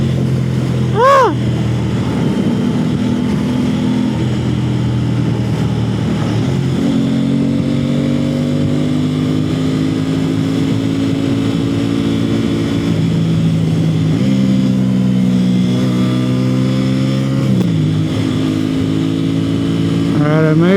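Motorcycle ride through Houston freeway traffic, the engine droning steadily with rising and falling pitch as it shifts and accelerates, loud wind rush throughout, with a brief horn-like chirp near the start.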